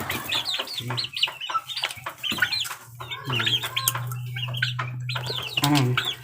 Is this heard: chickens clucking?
yes